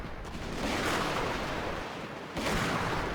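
Rapid gunfire from a Carlist Wars battle in a strategy video game, dense overlapping shots and booming reports rolling continuously, briefly dipping before another loud burst.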